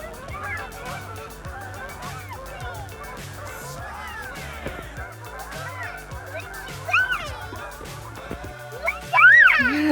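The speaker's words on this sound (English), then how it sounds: "Goose!" Geese honk repeatedly near a Catalina 30 sailboat at Hances Point, the calls harsh and overlapping over a steady rhythmic background beat, ending in a louder burst of honks.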